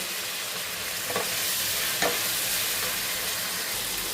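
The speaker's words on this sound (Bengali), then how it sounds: "ফুলকপিগুলোকে দিয়ে অল্প করে ভেজে দেব" Cauliflower fries in a pan with a steady close-up sizzle. Two sharp scrapes of stirring break through the hiss, and there is no talking.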